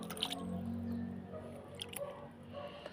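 A little water is flicked from a dipper onto carrot seedlings, producing soft wet drips and squishy splashes up close, a few scattered patters over a quiet background.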